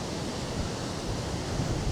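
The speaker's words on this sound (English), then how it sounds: "It's a windy start, that's for sure." Wind gusting outdoors at sunrise, a steady broadband roar buffeting the microphone with no pauses.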